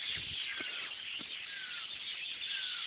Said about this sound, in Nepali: अनि चरै चरा कराउँछ